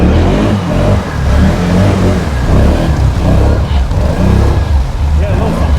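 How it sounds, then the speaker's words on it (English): A 2017 Can-Am Outlander 650 XMR ATV engine revs hard and steady while its tires spin without grip on rocks, loud and close, with people talking over the engine noise. "Just spinning these tires. You have no grip on the rocks."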